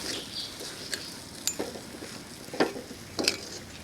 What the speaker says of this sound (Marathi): आता हे सगळं आपण छान मिक्स करून घेऊया